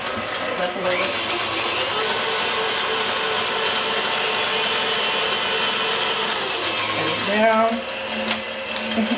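Electric mixer whirs steadily at close range, beating eggs into a chocolate chip cheesecake poundcake batter, then winds down and restarts with a rising pitch near the end. A person speaks briefly over it.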